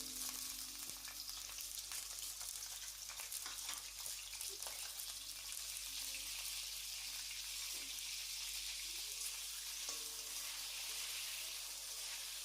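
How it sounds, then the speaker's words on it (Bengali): Eggplant pieces frying in oil in a pan for Bengali shukto, a soft continuous sizzle with faint crackles, quiet and close, with no voices. "প্রথমে ভেজে নেব বেগুনটা।"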